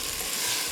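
Methi daal being stirred and fried in mustard oil, a brief, steady close-up sizzle with soft scraping, no voices.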